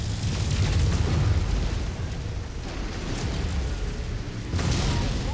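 An enemy mech explodes in MechWarrior 5 after a reactor breach, giving a loud, sustained roaring blast with deep rumble that eases off midway and then surges again, with no talking.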